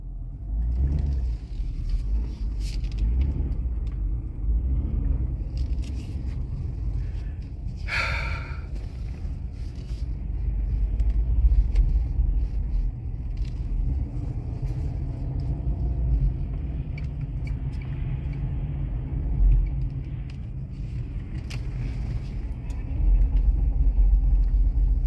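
Low, steady engine and road rumble of a 2009 Nissan Murano SL AWD with CVT, driven in its lowest gear, holding a constant drone inside the cabin with small bumps and shifts in loudness.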